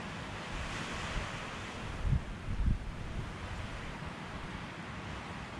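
Wind blowing steadily across an open mountain trail in Linville Gorge wilderness, a continuous roar with two brief louder gusts buffeting the microphone partway through.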